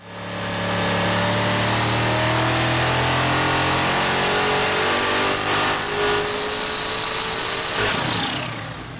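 A supercharged 427 small block V8 roars loud and steady on a dyno run, climbing in pitch. Near the end a shrill squealing whine of the supercharger blower belt slipping rises above the engine before it winds down.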